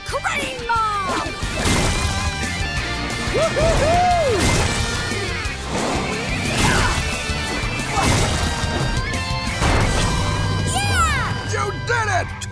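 A cartoon Wrecking Ball Crane smashes giant tacos in loud, repeated crashing impacts layered with whooshes, zings and bright musical effects, with cheering and energetic voices mixed through the busy scene.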